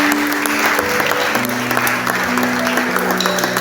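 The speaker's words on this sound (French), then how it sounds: "Est-ce qu'on va acclamer pour Dieu?" Church congregation applauding and cheering for God, a loud, continuous burst of many hands clapping mixed with crowd voices and music underneath.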